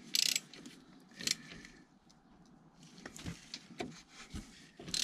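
Socket and ratchet loosen the oil filter housing cap on a BMW E60 M5, with scattered close clicks, scrapes and a few sharp hissy bursts at irregular intervals, fairly quiet with no talking.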